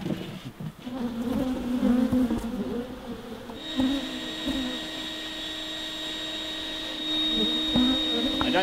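Wild honey bees being removed from a house are sucked into a bee vacuum, producing a dense, continuous buzzing over a steady motor hum that grows a little louder near the end.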